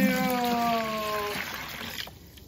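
Dirty water pours out of the tank of an Osotek H200 wet dry vacuum, a close steady trickle that runs for about two seconds and then breaks off into scattered drips.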